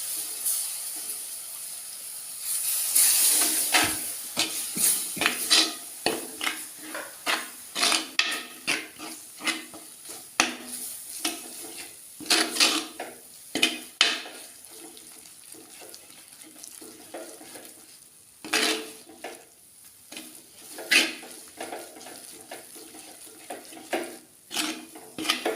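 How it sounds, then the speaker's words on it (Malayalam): Tomato masala being stirred in a pan for sardine curry, a scattered run of spoon scrapes and metal clinks against the pan over a soft background hiss. "ആ ടൊമാറ്റോയുടെ ഒരു പച്ച ചുവ ഒന്ന് മാറുന്നത് വരെ ഒന്ന് ഇളക്കി കൊടുക്കണം."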